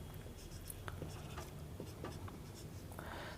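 A pen scratches across paper in short strokes and pauses while an electron configuration is written out, faint and close with brief taps between strokes, no voices.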